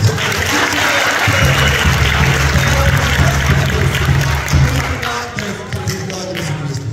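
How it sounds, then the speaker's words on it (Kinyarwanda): A church congregation claps together, a dense steady patter of applause that fills the space and thins toward the end, with some voices mixed in. "Nimumfashe tuyikomere amashyi."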